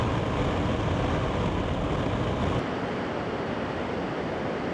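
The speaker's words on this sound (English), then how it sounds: "one of the most powerful waterfalls in Europe. They're absolutely roaring." Roaring Dettifoss waterfall in Iceland, one of Europe's most powerful falls, heard as a loud, constant broadband rush of falling water with wind mixed in and no voices.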